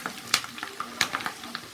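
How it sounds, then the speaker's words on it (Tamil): Drumstick leaves crackling and sizzling in frying ghee in a pan, with sharp pops and spatters scattered irregularly over a soft frying hiss, close by. "பாருங்க, நல்லா முறியுது கீரை."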